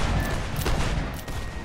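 Musket volley from a line of soldiers in a line-battle video game set in the Whigs and Tories era, heard as a dense, loud, continuous crackle of many overlapping shots with no gaps.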